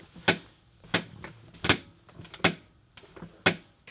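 An Autonomous ErgoChair 2 office chair clicks and creaks while someone leans in it: five sharp, close clicks arrive at roughly even intervals over a quiet room background, with fainter ticks and spring noises in between.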